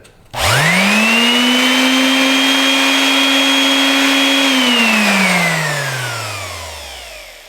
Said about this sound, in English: This is a 2 amp palm sander, so it does have quite a bit of power, and with quite a bit of power comes quite a bit of noise.